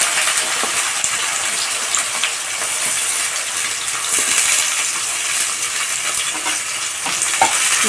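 Squeezed bitter gourd pieces fry in three spoons of oil in a pan on a gas stove, giving a steady, close sizzle with occasional stirring scrapes and taps, and no talking.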